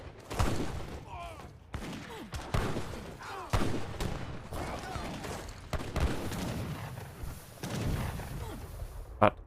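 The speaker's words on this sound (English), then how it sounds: "Hazard's getting on the Imperial cannons" Imperial cannons and artillery fire in a strategy video game battle, with repeated booming shots and crashing impacts at irregular intervals, while a commentator talks over the fighting.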